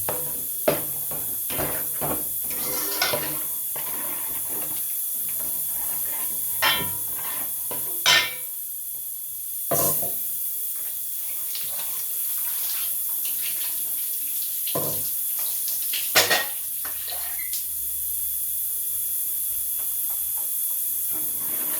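Water being poured into a pan of yellow trevally fish gravy (meen kulambu), a running, hissing flow near the mic with a few clinks of a vessel, and no talk over it.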